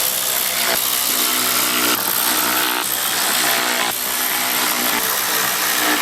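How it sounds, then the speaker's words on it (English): A power tool whirs loudly and continuously up close while refitting six T30 bolts along the top of a BMW M135i bumper, its motor pitch shifting slightly at each new bolt. "Now I can refit them 6 T30 bolts holding in the top of the bumper."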